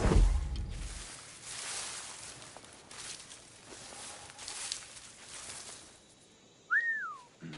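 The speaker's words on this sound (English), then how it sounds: "I've never used whistle so much before this." A player character in Assassin's Creed IV Black Flag gives one short rising-then-falling whistle near the end to lure a guard, heard over quiet game ambience and soft footstep-like patter.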